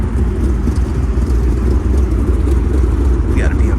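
Deep, steady rumble of a Dodge Scat Pack muscle car engine idling at a late-night car meet, loud and close, a continuous low drone with no clear revs.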